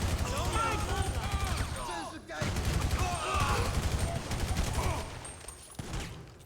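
Rapid gunfire crackles in bursts while shooting as Franklin in Grand Theft Auto V, dense popping volleys with brief pauses, mixed with in-game voices shouting over the shots.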